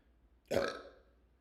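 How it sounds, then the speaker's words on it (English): One short, deep, throaty burp erupts close to the microphone from an otherwise quiet room, fading within about half a second. "Sorry, I didn't mean to burp. That was an accident."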